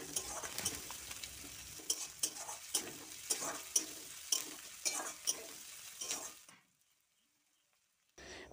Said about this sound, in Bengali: পেঁয়াজটা তো ভালো করে তেলেতে ফ্রাই হচ্ছে।